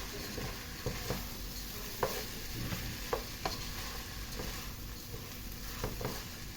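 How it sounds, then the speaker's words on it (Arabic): Steady frying sizzle rises from a pan as cumin and black pepper are stir-fried, with regular scraping and tapping strokes of a spoon against the pan, close and clear, no speech. "شوحي بقى ده كله في قلب بعض، شوحي شوحي شوحي."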